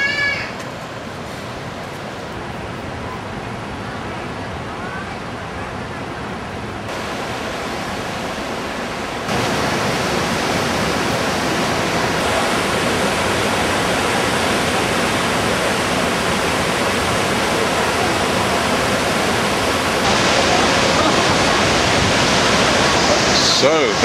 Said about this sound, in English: the drumming noise of the water coming over the rocks